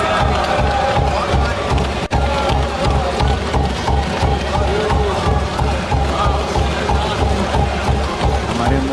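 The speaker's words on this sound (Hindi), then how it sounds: "हमारे मोदी जी की तालियां बजा रहे हैं वहां पे।" A large crowd cheers and applauds a budget announcement of income tax relief, a loud continuous roar of clapping and shouting with a brief dip near the start and voices mingled throughout.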